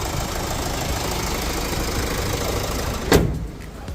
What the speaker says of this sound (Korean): 엔진 소리 한번 들려드리도록 하겠습니다.